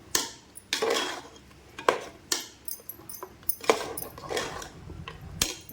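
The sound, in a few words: stirring coconut paste into mutton curry in a pot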